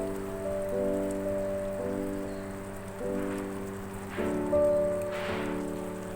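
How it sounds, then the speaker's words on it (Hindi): Spice masala for gatte ki sabzi frying on a high flame, giving a steady, moderate sizzling hiss that runs under sustained background music tones. "थोड़ा सा मसाले को हाई फ्लेम पे भूनेंगे"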